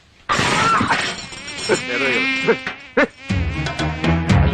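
Loud, close buzzing of flies that whines and shifts in pitch as they move around, with brief gaps and clattering bursts near the end.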